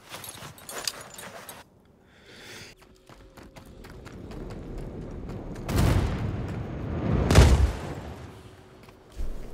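A spaceship blows up in the space game Star Citizen, with rapid clattering impacts building into two loud, booming explosion bursts near the middle and end.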